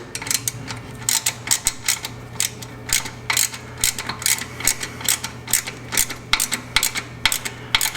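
A ratchet snugs up a nut on a vehicle's rear end, with a close, loud run of rapid clicking bursts in a steady rhythm over a faint low hum.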